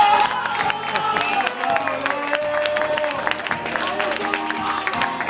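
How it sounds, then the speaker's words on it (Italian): Wedding guests clap and cheer for a man who has just sung a love song, a busy mix of applause, whoops and lively crowd chatter, with musical tones still ringing through. "proprio bravo Paolo, applauso!"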